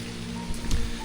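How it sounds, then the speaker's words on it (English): Heavy rain falls steadily at Sigiriya, Sri Lanka, a dense close wash of drops with a couple of brief louder bursts near the middle and no talking. "So now it started to rain heavily"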